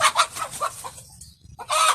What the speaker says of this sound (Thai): ไก่มันตกใจครับ